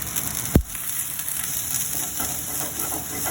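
Half an onion and two cloves of garlic sauté in a pan, giving a steady, close, broadband sizzle with one sharp knock near the start and no talking.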